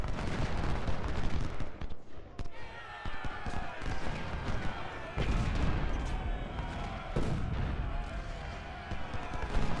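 Artillery fire rumbles in a Civil War battle at Gettysburg in Ultimate General: Civil War, Confederate guns shelling cavalry. Dull booms and thuds are scattered over a dense, noisy battle din that lasts throughout.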